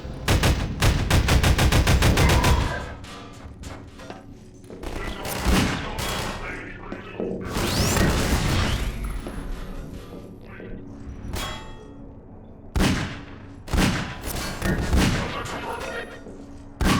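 Rapid gunfire hammers against a turret in Half-Life 2, a dense loud burst of shots and metallic clangs followed by scattered single shots, impacts and game noises, with some talk underneath.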